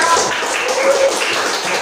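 Classroom audience applauding for a student group, a dense continuous patter of clapping at steady volume throughout.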